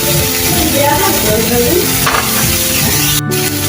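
Chicken shashlik sizzles and fries loudly in a pan with oyster, chili and tomato sauces, a continuous close crackle with faint stirring and scraping.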